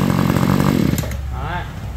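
26cc Japanese-made grass trimmer engine with a 34 mm bore, revving loudly and buzzing close up, then cutting off abruptly and winding down to quiet as someone speaks briefly.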